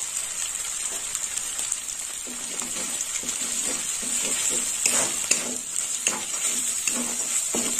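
Turmeric and chili powder fry in hot oil in a pan for muri ghonto, a steady bright sizzle with repeated soft scraping strokes of stirring, close and continuous.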